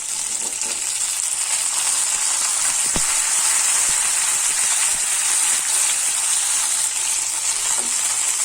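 Tomatoes and small shallots sauté in hot oil in a pan, giving a loud, constant sizzling hiss broken by a few light knocks from stirring, heard close with no voices.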